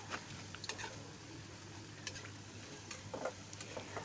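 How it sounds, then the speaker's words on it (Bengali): Semolina laddu balls frying in a kadai give a faint, steady sizzle, broken by occasional light clicks and scrapes as they are moved around. "এবার বড়িগুলো ভালোভাবে ভেজে নিতে হবে"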